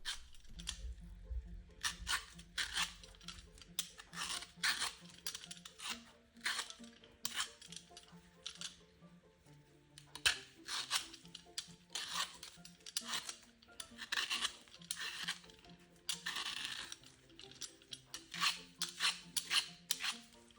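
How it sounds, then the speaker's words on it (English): A pear being peeled for a tarte tatin, giving a long run of close, crisp scraping and slicing strokes in a steady uneven rhythm, quiet and intimate, with faint tonal sound underneath and no talk. "it was so therapeutic and satisfying listening to the pear being peeled"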